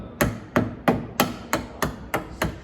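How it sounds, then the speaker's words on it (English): Mallet striking a chisel to cut a wooden cross halving joint, eight sharp, evenly spaced knocks in a steady rhythm, loud and close with no talking. "we're going to angle our chisel slightly down like this. And we just want to take off just this top section first"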